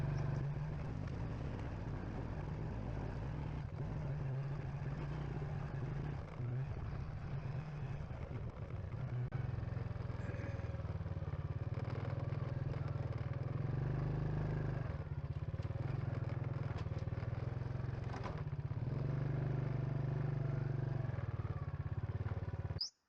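A motorcycle rides a Thailand mountain back road, its engine droning loud and steady and close for the whole stretch, with rattles and wind buffeting over it and no talk.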